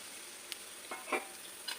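Cumin, cardamom and a piece of cinnamon crackle faintly in hot oil after fish frying, a soft steady sizzle with a few small pops and stirring scrapes.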